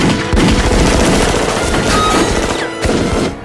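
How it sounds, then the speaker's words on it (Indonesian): Loud, continuous automatic gunfire from special forces in The Matrix film, a dense close-range fusillade of rapid shots and impacts that barely lets up before cutting off near the end. "harus melewati berondongan tembakan dari para pasukan khusus"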